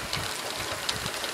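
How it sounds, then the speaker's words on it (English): Golf carts drive by at an apartment complex in League City during a thunderstorm, a low, uneven engine rumble pulsing beneath the steady hiss of rain. "Those are the golf carts here at the apartments."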